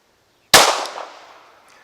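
A single sharp gunshot from a Derya DY9 Island pistol on an outdoor range, a loud crack followed by a trailing echo that fades over about a second.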